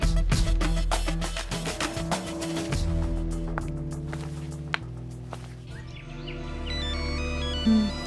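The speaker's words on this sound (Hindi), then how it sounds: "परी का फोन है" A phone rings with an incoming call, its melodic ringtone repeating in bright tonal bursts over a steady low hum, fairly loud and close, with faint footsteps and movement but no talking.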